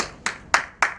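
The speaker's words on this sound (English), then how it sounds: "let's applaud." Three separate hand claps spaced evenly about a quarter second apart, sharp and fairly close in a quiet classroom, rather than full applause.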